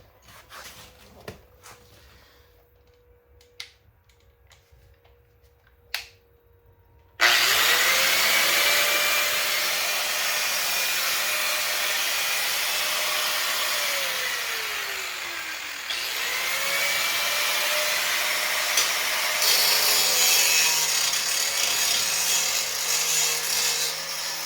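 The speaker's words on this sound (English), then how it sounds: "I'll try with the grinding one first here and see how it goes" An angle grinder with a grinding disc works on a body part of a 1977 Chevrolet C10 square-body truck, a loud steady whine and rasp that starts abruptly after some quiet clicks and handling, running continuously with a brief dip in pitch midway.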